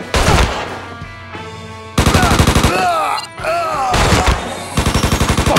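Gunfire in the video game Mafia III, with loud bursts of rapid automatic shots in several volleys separated by brief pauses, mixed with game sound effects.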